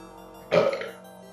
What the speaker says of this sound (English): Yes, that was a burp, I don't know if you heard it.